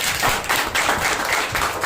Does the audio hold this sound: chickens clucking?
no